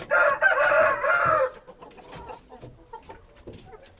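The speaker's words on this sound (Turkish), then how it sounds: "bu tavukla e, Arap horozumuz ikisi kardeşler." An Arab rooster and a hen cluck and call loudly up close for over a second, then softer scattered clucks and scuffling follow.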